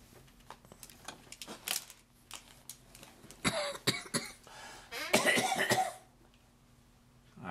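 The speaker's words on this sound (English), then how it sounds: "I've got a cough because I was making chili" Several short coughs, close by, brought on by chili, scattered among clicks and rustling handling noises in an otherwise quiet room.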